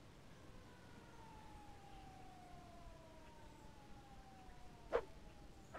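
A fire engine siren wailing in the video game Harvester, a faint, distant falling tone that drifts slowly down over quiet background hiss, with one brief sharp click near the end.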